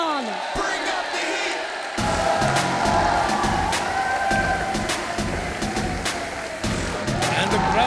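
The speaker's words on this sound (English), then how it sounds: "And the crowd erupts for one of Mumbai's own, Sohail Khan" Crowd roars and cheers as a fighter from Mumbai walks to the ring at a Kumite 1 fight event, loud sustained noise with whoops and a commentator talking over it.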